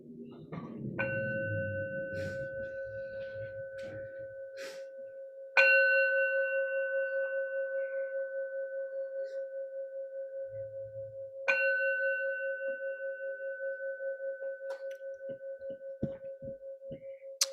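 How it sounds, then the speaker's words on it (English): A meditation bell rings three times at slow, even intervals, each strike clear and resonant with a long humming sustain that slowly fades, preceded by soft rustling and light handling noise. "so that you guys can hear the sound of the bell."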